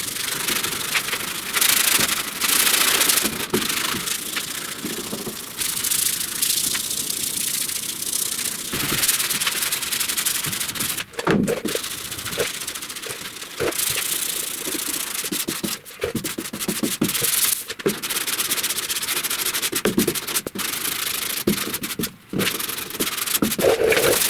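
Hand sanding over primer on a truck cab corner crease during deep dent repair, a loud, close, continuous rasping rub in long strokes with brief pauses between passes, no talking.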